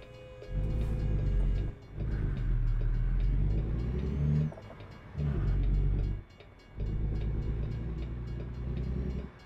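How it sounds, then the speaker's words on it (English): A train in a truck driving video game rumbles by in heavy, pulsing waves of low roar with brief drops between carriages, loud and continuous over nine seconds. "I can hear a train."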